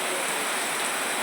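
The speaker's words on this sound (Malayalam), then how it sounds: "എന്തൊരു മഴയത്." Heavy rain falls in a dense, loud, unbroken hiss with no other sounds.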